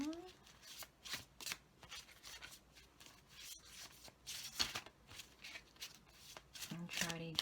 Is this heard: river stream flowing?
no